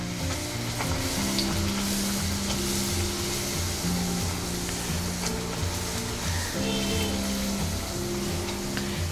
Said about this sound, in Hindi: पूरी को तलने के लिए हमने तेल को अच्छे से गर्म कर लिया है। आंच को मीडियम रखेंगे और पूरियों को तलेंगे।